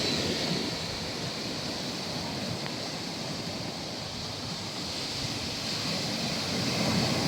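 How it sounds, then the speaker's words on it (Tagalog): High, strong ocean waves wash continuously onto the shore, a steady broad roar of surf with a soft hiss and slight wind noise and no voices. "Mataas yung alon na yan mga ka-business oh. Malakas yan."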